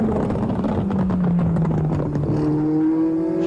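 A red and white Marlboro McLaren M23 race car at Fuji drives past with a buzzing engine, its pitch sliding down and then rising as it accelerates. The sound is continuous and close, with no talking.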